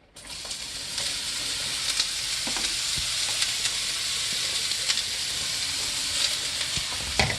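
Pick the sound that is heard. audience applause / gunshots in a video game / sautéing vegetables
sautéing vegetables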